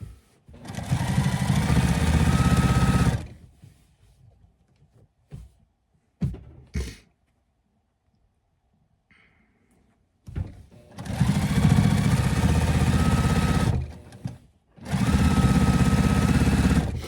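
Sewing machine stitching patchwork pants at high speed runs in three long bursts, loud and near, broken by short pauses with small handling clicks and faint quiet gaps.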